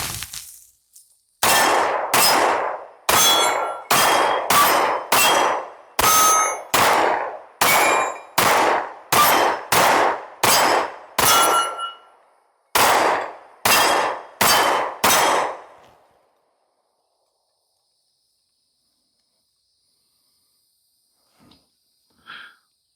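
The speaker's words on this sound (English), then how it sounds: "let's fire some rounds through this thing and see if we can put some lead on steel" Canik METE MC9 pistol firing about fifteen sharp shots at steel targets in a quick, even string, each loud crack ringing with a metallic clang, followed by silence and a couple of faint distant pops.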